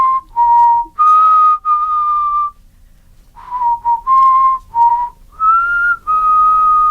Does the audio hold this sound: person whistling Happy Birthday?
yes